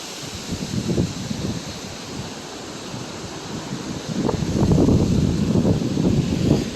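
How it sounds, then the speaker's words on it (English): Gusty hurricane wind from Hurricane Helene in Athens, Georgia roars steadily outdoors, with stronger rumbling gusts buffeting the microphone around the first second and again through the second half. "More of that wind."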